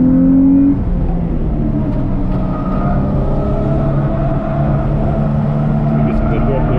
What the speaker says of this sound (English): I hear the turbo coming through that hole.